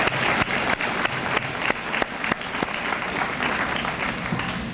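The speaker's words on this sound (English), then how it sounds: "Let's give them a nice round of applause." Audience applause at the Phillipsburg-area high school honors assembly: a steady, moderately loud round of clapping from a large crowd, with a few sharper individual claps standing out and no talking over it.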